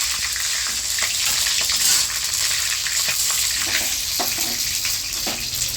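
Panch phoron and green chillies sizzle hard in hot oil in a wok, a loud, steady hiss that carries on throughout, with small pops and crackles scattered across it.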